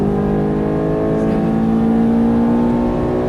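Ferrari F430 accelerating on a track after an upshift, a steady close engine drone with a strong tonal whine that rises slightly in pitch, continuous and loud throughout.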